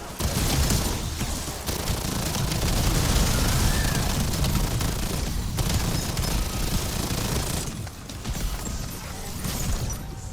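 Continuous, loud LMG fire in Black Ops 7 Zombies: sustained rapid automatic bursts with brief pauses, dense and close, filling most of the stretch.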